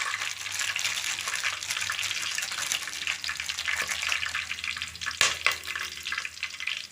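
Whole spices for a biryani tempering fry in hot ghee for ghee rice, giving a loud, continuous crackling sizzle with a sharp stirring clatter partway through.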